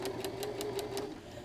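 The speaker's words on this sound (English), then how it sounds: "So now I'm again sewing to the left of the stay stitching." Sewing machine stitching a jacket upper collar, making a quick even run of six or so rhythmic needle thumps over a low motor whine, close and moderately quiet, then stopping.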